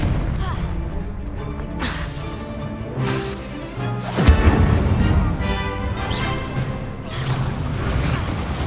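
A Confringo blasting spell explosion in Hogwarts Legacy, with a sharp crash near the middle among other impacts and whooshes, loud over a busy game soundscape.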